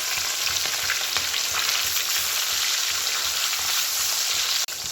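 Small rohu fish frying in oil in a pan in a home kitchen, a steady, close, crackling sizzle that holds evenly throughout with no talking.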